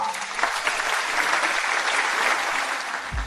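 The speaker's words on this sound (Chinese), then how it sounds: "让我们用掌声有请贾厂长夫妇上台讲话" An audience applauding a couple as they are welcomed onto the stage at a school ceremony, dense sustained clapping from a crowd throughout, fairly loud and close.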